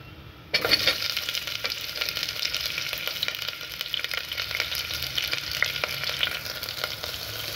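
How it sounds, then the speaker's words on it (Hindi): Onions with curry leaves hitting hot oil in a pan for Anglo-Indian railway mutton curry, starting with a sudden loud sizzle that settles into continuous close crackling and spitting, with occasional stirring. "और प्याज को भूनेंगे।"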